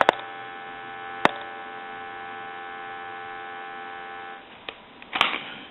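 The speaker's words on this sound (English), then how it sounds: "Use some dial tone." A repaired rotary telephone gives a steady, even dial tone, a continuous buzzing hum at constant level with a few clicks at the start and handling noises near the end.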